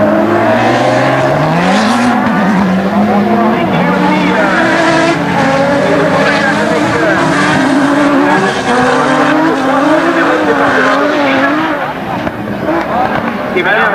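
Rallycross cars including an Alpine race hard on a French circuit, engines revving and tires squealing continuously and loudly, with a commentator talking excitedly over the whole stretch.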